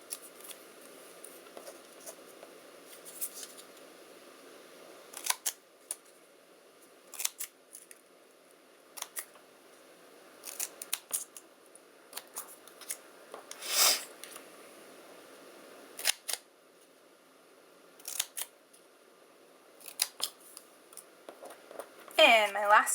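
Scissors snip through paper while cutting a fringe heart, giving short, crisp cuts in irregular bursts with quiet pauses between them. A voice speaks intermittently over the cutting.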